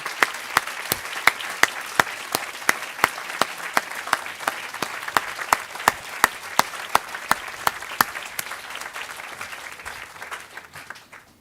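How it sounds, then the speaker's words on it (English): Applause for CDU faculty standing at a UCLA–CDU medical education white coat ceremony: a run of sharp, evenly spaced claps, sparse and crisp rather than a dense roar, fading toward the end. "Let's give them a round of applause"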